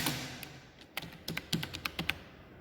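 Keys tapped on a computer keyboard while filling in class details, a run of about eight crisp, close clicks in an irregular rhythm, starting sparse and quickening toward the end, with no talk.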